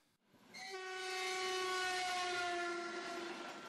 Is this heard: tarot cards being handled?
no